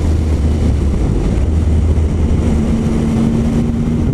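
Engine of a Triumph Speed Triple R motorcycle running steadily and loud at close range, a deep sustained drone with a low tonal hum and no pauses.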